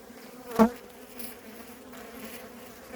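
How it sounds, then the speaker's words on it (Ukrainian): Honey bees at hives hum softly and steadily, with one louder buzz as a bee passes close by. "а тут дивіться, скільки бджоли"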